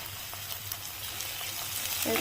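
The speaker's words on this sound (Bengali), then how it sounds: "এবারে আমি কুচনো টমেটোগুলো দিয়ে দেব।" Chopped tomatoes dropped into frying ginger and garlic in a pan for mushroom masala, producing a soft, steady sizzle that grows slightly louder toward the end, with faint stirring scrapes.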